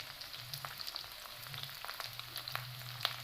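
Chopped onions fry in hot mustard oil in a kadai, a faint, steady, close sizzle with light crackles throughout.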